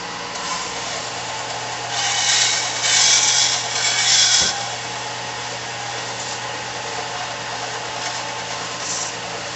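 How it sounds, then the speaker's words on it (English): A belt sander grinding a texture pattern into the epoxy resin handle of a camping knife, a continuous close whirring hum with the abrasive rasp swelling louder for a few seconds in the middle. "It's just this belt digs into this epoxy."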